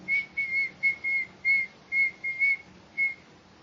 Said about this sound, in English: And the whistling.